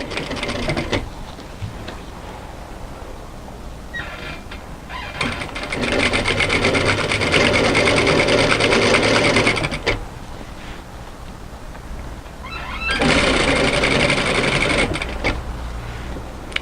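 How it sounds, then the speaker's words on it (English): A sewing machine with a ball needle edge-stitches around the neckband of a winter sweater, running in two long, loud, close bursts with quieter pauses between them and no talk. "I'm just going to sew with an edge stitch"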